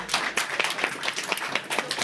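An audience claps at a live comedy show, with scattered, uneven hand claps rising and falling across the moment and no voices standing out.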